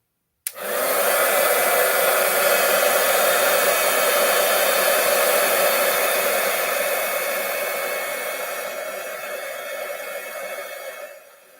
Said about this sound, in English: now we're going to grab the heat tool.